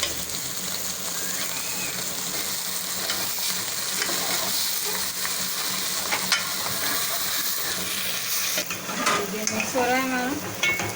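Spiced potato filling with green chillies is stirred and fried in a pan, a continuous close sizzle and hiss with scraping strokes of the spoon, and a brief squeal near the end.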